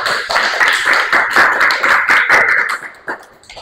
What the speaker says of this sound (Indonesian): kasih tepuk tangan untuk Laila